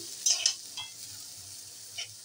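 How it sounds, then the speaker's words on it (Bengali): Bottle gourd leaves are stir-fried in a pan: a soft, low sizzle with a few quick scraping stirs near the start and one more toward the end, heard close but quiet. "এবারে আমি দিয়ে দিচ্ছি লাউ শাকের পাতাগুলো। এগুলো দিয়ে আর একটু ভাজা করে নিতে হবে"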